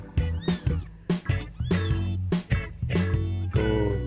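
A seven-day-old kitten squeaks in rapid, high, repeated mews at close range, a steady string of short cries over a low hum of background noise.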